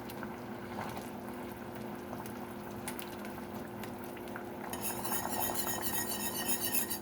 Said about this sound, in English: I'm just going to whisk this in there.